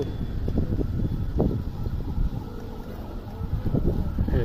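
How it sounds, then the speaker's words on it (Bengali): Gusty wind buffeting the microphone in a low, rumbling rush at a fishing pond in Rupganj, steady throughout with irregular thumps and swells. "এখনও বাতাস আছে"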